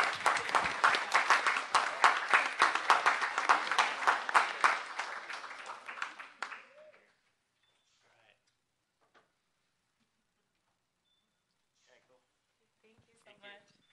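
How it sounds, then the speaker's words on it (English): Audience applause for a mother recognized at a Trade, Travel, and Tourism committee meeting: roomful of clapping for nearly seven seconds that stops abruptly, followed by near silence with faint scattered noises. "Let's give her a round of applause."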